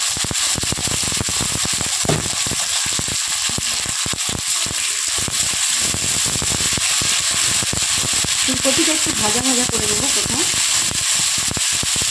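Cauliflower and whole cumin seeds sizzle and crackle in hot oil, a loud continuous frying hiss with dense popping spatters close up, while a voice talks over it.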